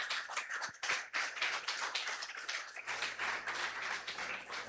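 Congregation applauding during a church sermon, a dense burst of many hands clapping that carries on steadily at moderate loudness, with a low hum underneath and no talk.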